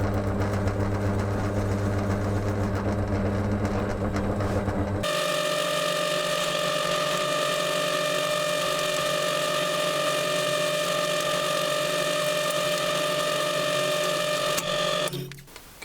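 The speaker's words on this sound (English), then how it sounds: "I'll do the countersink now." Drill countersinking screw holes in perspex for a shooting board, a steady motor whine that shifts pitch partway as the bit bites, running continuously before stopping abruptly.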